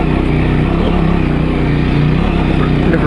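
An off-road vehicle engine revs on a clay track, holding a loud, continuous rumbling drone with slight pitch wavering throughout, close and steady.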